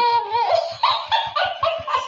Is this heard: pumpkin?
no